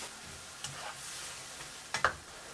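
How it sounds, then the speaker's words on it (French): Rice vermicelli stir-fry with shrimp stock and seasoning sauce over medium heat, a soft steady sizzle with a few scraping stirs and a brief clatter of utensil near the end. "Je remue pendant 20 secondes."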